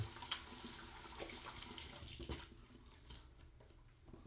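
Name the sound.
tap water running to wet the face for shaving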